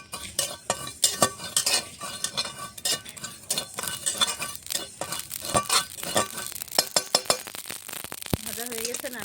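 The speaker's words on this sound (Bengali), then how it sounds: "শুকনো খোলাতে সর্ষে পোস্তটা আমি ভেজে নেব।" Mustard and poppy seeds dry-roast in a pan, with constant scraping and stirring, crackling, and occasional utensil clinks against the metal close by.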